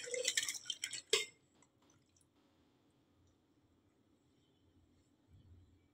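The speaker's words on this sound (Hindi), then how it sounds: "इस पानी को हम छेने को इसके अंदर डाल देंगे।" Water splashes and drips as chhena for rasmalai is strained through a muslin cloth, a short close burst of pouring and dripping that fades into a faint trickle and near silence.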